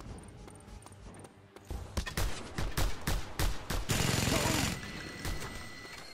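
Gunfire in the video game Just Cause 2, rapid bursts of shots in quick succession, loud and close, with sustained firing and commotion toward the end.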